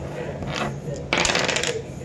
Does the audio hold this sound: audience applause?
no